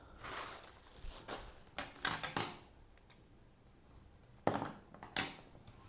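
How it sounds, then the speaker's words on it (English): Scissors snip through a long strand of yarn while a strawberry keychain is being made, giving several short, crisp cuts in quick bursts, fairly close and quiet, with no talk. "So cut a long thread."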